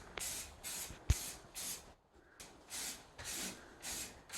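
A spray paint can hisses in repeated bursts of about half a second each as kitchen countertops are refinished, with short gaps between passes and a faint knock near the start, no talking.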